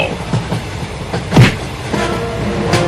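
A cartoon train rolls along with a steady rumbling clatter, a brief louder burst of sound near the middle and faint rhythmic clicks throughout, with no talking.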